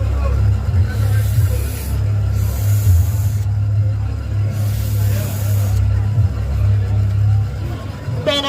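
Breath is blown into a sketch-pen blow pen to spray ink, making several breathy hissing puffs of a second or so each, close and under ongoing talk.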